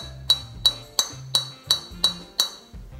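A Srixon Z585 golf driver and a Srixon ball produce seven sharp, ringing metallic clinks at an even, quick pace, each bright tap decaying fast over a low background.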